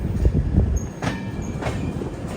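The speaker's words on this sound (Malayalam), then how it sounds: "വസൈ റോഡ് റെയിൽവേ സ്റ്റേഷനിൽ ഇത് നമ്മുടെ ട്രെയിൻ എത്തിയിരിക്കുകയാണ്" A passenger train arrives at Vasai Road railway station with a low, steady rolling rumble and faint high wheel squeals, heard close and alone for a couple of seconds.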